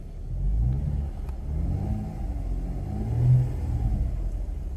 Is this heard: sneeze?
no